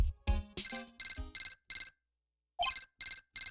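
A transceiver rings in Phoenix Wright: Ace Attorney 2 as a chiptune-style ringtone: rapid, evenly pulsed electronic trills repeat, break for a brief silence, then resume, following a few opening game sound blips.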